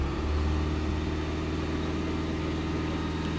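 A Japanese car engine idles in a close, steady low hum with a faint regular pulse, running unbroken for the whole stretch with no voices.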